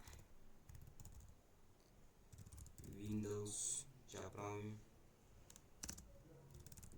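Quiet clicking of keys on a computer keyboard while a folder name is typed in Windows 10 File Explorer, with someone speaking French over the middle of the typing.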